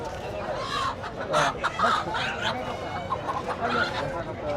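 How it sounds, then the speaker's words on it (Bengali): Roosters at a rural village market in Bangladesh, clucking and calling now and then under a busy mix of nearby voices and crowd noise. "এই যে মোরগ নিয়ে যাচ্ছে আর এই যে এই দিকটাতে এই যে কাকা মোরগ নিয়ে বসছে"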